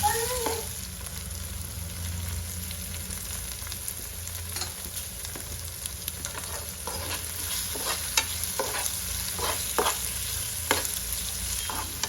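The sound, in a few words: stirring chicken with tomato in a frying pan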